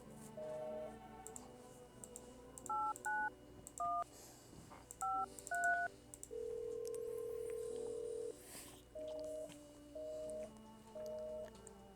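A phone number is dialed in a video game: clean DTMF keypad beeps sound singly and in quick pairs, then a long steady tone, then more evenly spaced beeps, all over a faint background hum.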